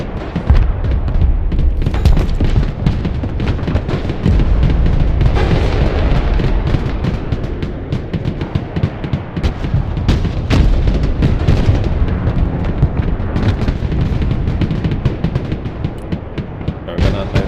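Artillery fire in the real-time strategy game Broken Arrow: an unbroken, loud barrage of booms and explosions pounding on for over seventeen seconds with dense overlapping impacts.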